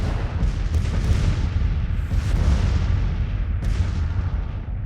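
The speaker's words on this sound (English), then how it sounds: "You're in a great position for counter-battery fire there." Artillery fire in Grand Tactician: The Civil War 1861-1865 strategy game, a loud rolling series of heavy cannon booms overlapping one another, with a few sharper blasts standing out.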